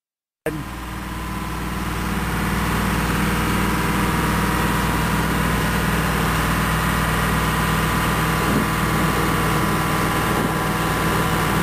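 Engine of a carrier machine fitted with a Loftness mulcher head runs at a loud, steady idle, a continuous unbroken drone starting abruptly and holding level throughout, with no talk.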